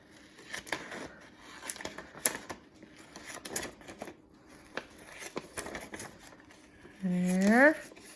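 Scissors snip through paper while a water fidget is cut out, giving a series of short, close crisp cuts and rustles, followed by a brief rising squeak near the end.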